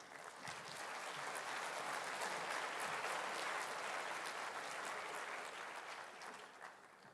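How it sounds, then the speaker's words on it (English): A steady round of applause fills a conference hall at the REAIM 2026 closing in A Coruña as a minister is welcomed on stage, holding an even level throughout before tapering off slightly at the end. "Please welcome him on stage with a round of applause."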